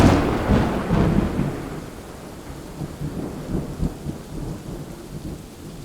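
A thunderstorm with a loud rolling rumble of thunder at the start that slowly fades into steady rain falling on surfaces, with softer distant rumbles continuing beneath.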